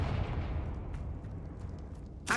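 A Confringo spell explosion in Hogwarts Legacy, a deep rumbling boom that fades over about two seconds, followed by a short sharp burst at the end.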